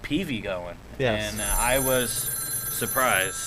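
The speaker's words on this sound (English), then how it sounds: "Sorry for that phone call right there." A telephone rings with a steady high electronic tone, sounding under overlapping talk in a sports discussion show.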